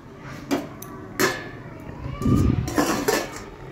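A metal lid set down over a pot of lightly boiling cauliflower with a bay leaf, giving a few clattering knocks of cookware, with a louder clank near the end, and no talking.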